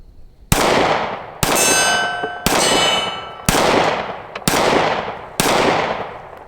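Smith & Wesson Shield Plus 9mm pistol firing six sharp, loud shots at an even pace about one second apart, each with a ringing metallic tail, outdoors.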